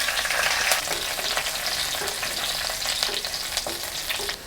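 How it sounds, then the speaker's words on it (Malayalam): Fifteen garlic cloves fry in hot oil with mustard seeds and curry leaves for a green chilli curry, giving a steady, close sizzle and crackle with occasional stirring scrapes, no voices. "ഒരു 15 അല്ലി വെളുത്തുള്ളിയാണ് ഇട്ടേക്കുന്നത്. ഇത് നന്നായിട്ട് മൂത്ത് വരണം."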